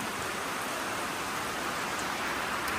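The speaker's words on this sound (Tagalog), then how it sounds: "Abunda yung ulan dito." Dense rain pours down in a constant, loud hiss with no breaks and no talking.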